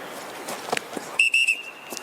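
A referee's whistle at the NFL Scouting Combine 40-yard dash gives a clear, shrill blast broken into a couple of quick pulses, cutting through the crowd noise.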